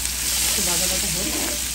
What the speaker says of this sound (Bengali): একটু বাজা বাজা হোক।